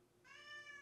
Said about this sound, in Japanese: 猫がうるさいんですけど